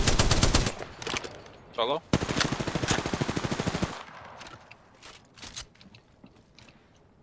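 Rapid bursts of video game gunfire rattle in a battle royale match, a dense volley first, then another long string of shots, with players talking briefly between and after the firing.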